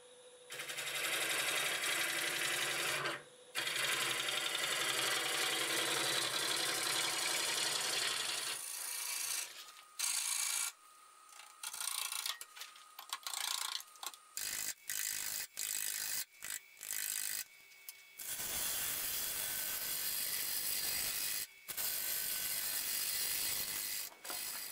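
Siberian elm spinning on a wood lathe at about 700 RPM, with a gouge cutting away soft, cracked wood in long loud scraping passes broken by short pauses and choppy bursts of tool contact.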